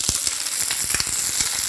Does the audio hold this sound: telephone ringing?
no